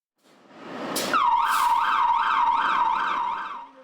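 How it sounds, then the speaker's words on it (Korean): A fire truck's loud wailing siren sweeps up and down in steady rapid cycles, preceded by a couple of short horn blasts, with no talking, as it enters a residential street in South Korea. "불이 난 주택가로 소방차가 들어옵니다."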